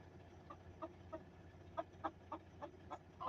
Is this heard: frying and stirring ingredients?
no